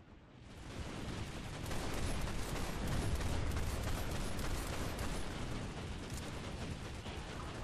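Continuous massed infantry gunfire during a game shooting drill, a dense, steady crackle of overlapping shots that stays loud and unbroken for several seconds.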